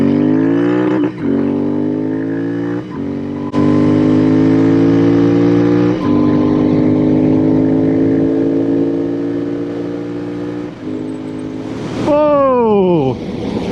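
A custom Royal Enfield Interceptor 650 motorcycle engine revs and shifts through gears on a highway, its pitch climbing and dropping repeatedly, loud and close, with a sharp rev-down near the end.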